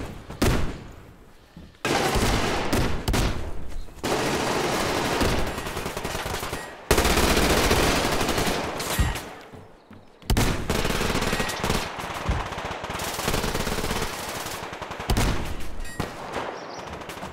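A P90 submachine gun fires in the shooter game Survarium in long, loud automatic bursts separated by brief pauses, with no voices over the rattle.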